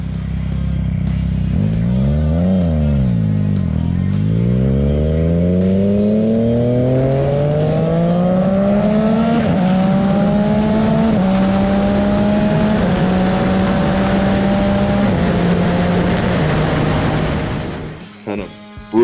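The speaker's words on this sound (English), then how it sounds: "a screaming inline 3-cylinder engine" A naked motorcycle's screaming inline 3-cylinder engine pulls hard through several gears, each rising whine cut by a quick shift, loud and close and continuous until it drops away near the end.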